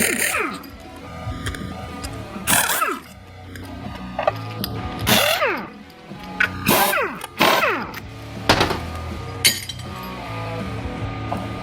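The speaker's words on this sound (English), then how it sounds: "I'm gonna get the pump bolts out of here since it's right in my face." Pump bolts removed from a 2007 GM 4L80E transmission, with repeated metallic clinks and ratchet-like tool clicks in irregular bursts, close by, under some low voices and shop noise.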